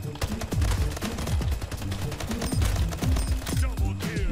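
Rapid bursts of gunfire from the arena shooter Splitgate: Arena Warfare, loud and close, with sharp repeated shots layered over a busy game mix and occasional voice.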